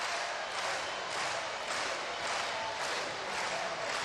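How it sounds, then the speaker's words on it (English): Loud arena crowd roaring steadily through a Big West men's volleyball championship final between Hawaii and Long Beach State, a dense continuous wash of cheering with slight swells and no clear pauses. "And a loud crowd."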